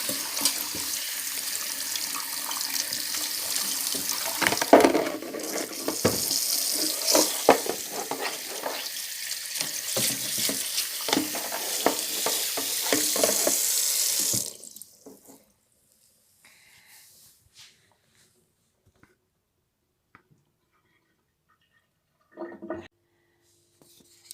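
Tap water runs steadily into a sink while spinach is rinsed by hand, with splashing and handling sounds, then cuts off into near silence with a couple of faint clatters.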